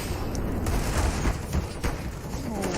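Rapid gunfire in the video game Counter-Strike, a dense fusillade of sharp shots and bursts filling the whole stretch, loud and continuous with a faint voice underneath.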